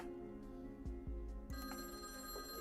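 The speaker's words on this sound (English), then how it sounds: "the silence was broken by the sound of the phone ringing." Telephone ringing in the visual novel Witch on the Holy Night, a bright electric bell trilling in bursts over a soft background music bed, with a few dull thumps before the ring starts.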